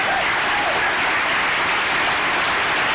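Audience at a school district State of the Schools address breaks into loud, sustained applause, a dense continuous roar of clapping filling the hall from start to finish.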